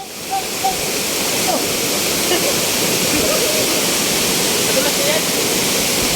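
Liliw Falls in Laguna, loud water crashing down onto rocks, a constant roaring rush close by, with a voice briefly heard over it.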